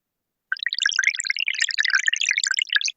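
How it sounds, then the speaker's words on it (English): An AI-generated sound of a water drop rolling, a dense run of bright, rapid liquid drips and bubbly plinks lasting a few seconds, close and fairly loud, with silence before and after. "Here it's water, and you can feel something rolling."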